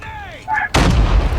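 A brief whistling, falling tone gives way to a sudden loud grenade blast in Call of Duty Mobile that booms and rumbles on without fading, close and heavy.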